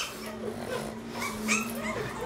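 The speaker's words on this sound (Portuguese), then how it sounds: "O Jack, quando chega perto de algum cachorro, gente, ele fica meio agitado assim" A dog, agitated at meeting another dog, whimpers and lets out short yips in a few rising and falling whines over a steady background, with people talking nearby.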